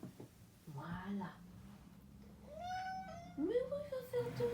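A house cat meows several times close by, in drawn-out, rising and falling cries with short pauses between them, over quiet room tone.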